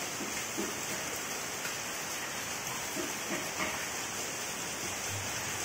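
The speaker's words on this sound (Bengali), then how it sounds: "এরপর দেখুন ঝমঝমিয়ে বৃষ্টি শুরু হলো, কি জোরে বৃষ্টি শুরু হয়ে গেছে" Heavy rain pours down outside a home, a dense, even hiss that holds steady from start to finish with no voices over it.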